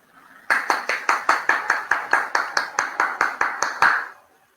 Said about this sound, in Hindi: तालियों से एक जोरदार स्वागत